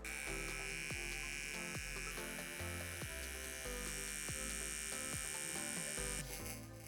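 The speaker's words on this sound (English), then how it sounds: "I'm just going to run the machine now" Cheyenne Hawk Pen Unio rotary tattoo machine running with a steady electric hum and buzz, continuous and even throughout, close up with no voices.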